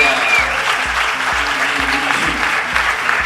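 Audience applauding after a film screening, dense sustained clapping from a sizable crowd, loud and close with a steady rhythm of many overlapping hands.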